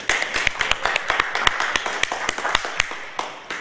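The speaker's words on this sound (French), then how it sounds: "Je vous demande de l'applaudir." Audience at a French debate on freedom of speech applauds, with scattered, uneven claps at moderate distance, thin rather than a full roar, steady for a few seconds.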